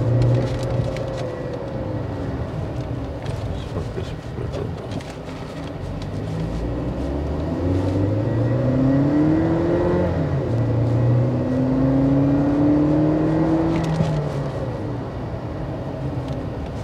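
A BAIC BJ40 turbo SUV engine accelerates through the gears, its loud drone climbing in pitch in repeated rising sweeps over steady road and cabin noise, with no talk.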